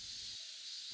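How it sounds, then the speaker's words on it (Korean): Cicadas sing in a summer forest at a Buddhist temple in Busan: a steady, high, hissing drone that fills the space without a break, with no voices. "무더운 여름 부산 금년산 숲속 마하사에는 시원한 바람이 불고 매미 울음소리가"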